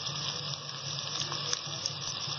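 Vegetables for a mixed sabzi fry steadily in a pan, a continuous soft sizzle with faint crackles and no voices.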